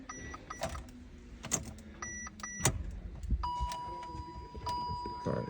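A Fiat 500e electric car being switched on, with several short chimes and electronic tones over faint cabin noise and a voice nearby.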